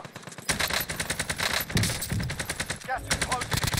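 Gunfire in a battle royale video game duo match in hilly terrain, rapid bursts of automatic shots rattling continuously and loud for several seconds, with sharper single cracks near the end.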